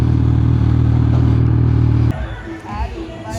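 Motorcycles idle in a parking area at Rani ki Vav, Patan, with a steady loud engine drone that cuts off abruptly partway through, leaving quieter crowd and ambient noise.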